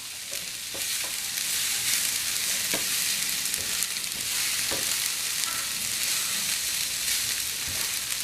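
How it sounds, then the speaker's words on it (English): Kimchi cheese fried rice sizzles loudly and steadily in a wok, with a few soft scraping and tossing knocks as it is flipped, no voices. "Now if you're daring, you'll give it a flip."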